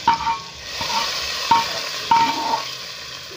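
Moong masoor dal being stirred and fried in a pan, a steady sizzle with several sharp spoon scrapes and clinks against the metal, close and fairly loud, no voices.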